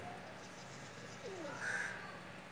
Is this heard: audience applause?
no